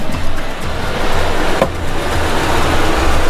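A car engine idles smoothly after a spark plug change, a steady low rumble with a broad noisy wash on top, fairly loud and close for a few seconds with no voices.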